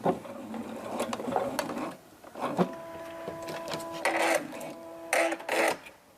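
A sewing machine stitches a hem toward a corner and backstitches, with short bursts of rapid mechanical whirring and clatter, brief pauses and stops between runs, close up with no voices.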